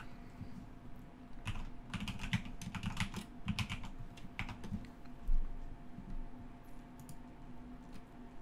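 Keystrokes on a computer keyboard entering a wallet spending password, a quick irregular run of close, light clicks over a steady low hum.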